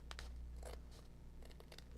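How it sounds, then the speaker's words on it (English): Scissors trimming the extra edges of a handmade summer cruising card, a few quick faint snips in short bursts against a quiet background. "Just take some scissors, cut them"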